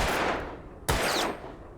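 A gun fires twice in the Alan Wake Remastered video game, first a loud blast that trails off and then a second sharp crack about a second later, close and without talk.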